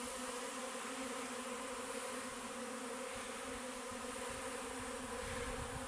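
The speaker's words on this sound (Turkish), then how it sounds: "Hangi arı olduğunu da bilemiyorum." Steady, close bee buzzing drones continuously without pause, a dense insect hum filling the whole stretch.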